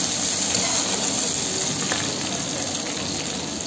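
Veg Manchurian frying in hot oil in a restaurant-style kitchen, a steady, dense sizzle that holds evenly and close throughout with no voices.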